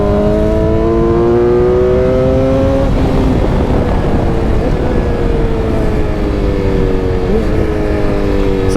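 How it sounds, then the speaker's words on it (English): A BMW S 1000 XR motorcycle engine revs up loudly nearby, its pitch climbing in a couple of sweeps, then settling into a rough, steady drone. "So you don't believe it's the same engine until you start to rev it."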